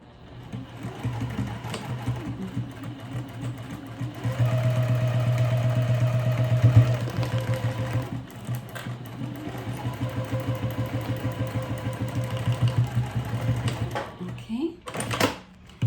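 A sewing machine stitches the sides of a clear vinyl pouch in bursts of steady whirring hum, close up, with pauses and someone talking quietly between runs.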